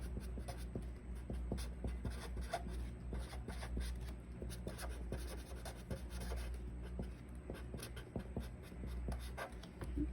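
Marker or chalk writing on a board during a trigonometry lesson on sine and cosine graphs, a steady run of faint scratchy strokes and taps over a low constant room hum, with no talking.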